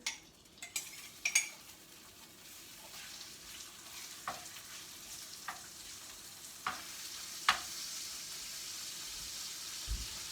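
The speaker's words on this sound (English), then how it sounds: "we're going to go over and pop it onto our stove and our pan" A food mixture with garlic fries in a pan on a stove, giving a soft, steady sizzling hiss throughout, broken by occasional light clicks and taps from a utensil.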